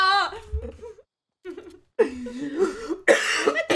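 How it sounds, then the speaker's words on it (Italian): A few harsh coughs break out between bursts of voice and laughter, close and fairly loud. "Sta tosse, raga"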